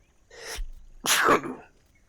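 A single loud, close human sneeze: a sharp inhaled build-up followed by a forceful burst, then quiet, with no talking.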